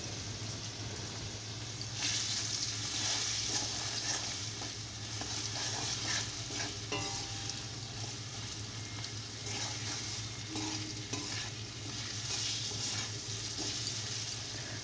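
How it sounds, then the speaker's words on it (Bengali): Masala with turmeric, salt and chili powder sizzles and fries steadily in a pan, stirred now and then with faint scraping, close and continuous with no talking. "ভালো করে কষিয়ে নিচ্ছি"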